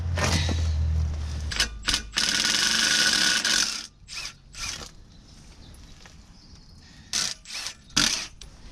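A hand ratchet working on clutch bolts of a Mercedes T1 310D van with an OM602 engine: bursts of rapid clicking and mechanical clatter, close, separated by pauses and softer clicks.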